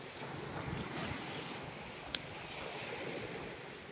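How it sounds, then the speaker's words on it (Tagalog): Sea waves wash along a beach shoreline in a soft, continuous rush under light wind, fairly distant, with one sharp click midway and no voices. "Yan yung dagat."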